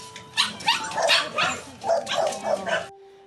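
A dog found on an island of abandoned animals barks and whimpers in a quick run of about eight close, loud yelps and cries, then falls silent.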